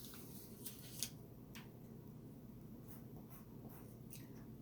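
Pencil or pen writing a sentence on paper, faint scratchy strokes in short repeated bursts over a quiet room hum.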